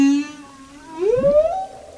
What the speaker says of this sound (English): Male humpback whales are the concert singers of the marine world